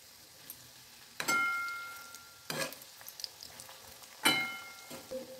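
Dough balls frying in oil over a low gas flame, a quiet bubbling sizzle broken by three sharper bursts of crackle and spatter as pieces are added or moved.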